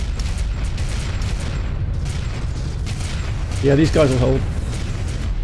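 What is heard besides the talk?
artillery cruiser explosions, from video game Homeworld: Deserts of Kharak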